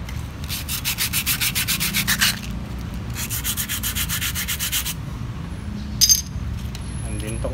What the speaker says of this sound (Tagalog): Tong isang to lihain na rin natin.